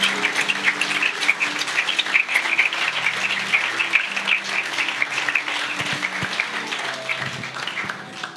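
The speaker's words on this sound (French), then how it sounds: "Est-ce qu'on peut donner une bonne main d'applaudissement à l'équipe de louange?" A church congregation claps for the worship team in a steady, dense burst of applause that fills the room at close range and continues throughout, with faint sustained tones lingering underneath.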